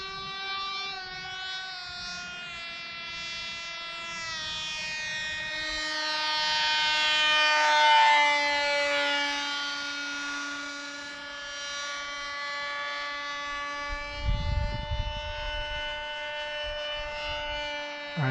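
An electric motor on a radio-controlled foamboard F-23 model plane whines steadily in flight, its high tone slowly rising and falling as the plane passes, loudest midway, with no talking.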